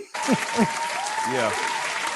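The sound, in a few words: applause for Rel Scott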